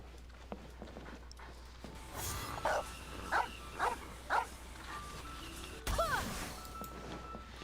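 A dog barks in the Genshin Impact video game: four short, evenly spaced barks at moderate loudness over a quiet ambient game background.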